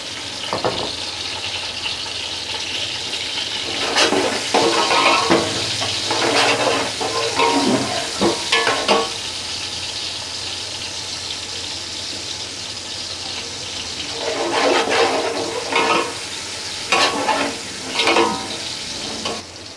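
Garlic and ginger sizzling in a hot pan after onions, with stirring scrapes and clatter through a steady frying hiss, louder bursts in the middle and again near the end.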